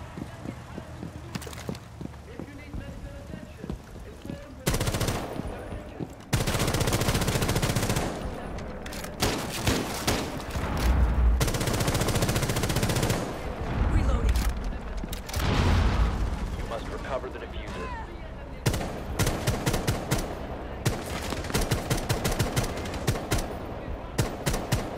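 Video game gunfire as a player rushes an objective, with dense rapid bursts and sustained volleys, loud and close, alternating with short quieter gaps, while a voice talks intermittently.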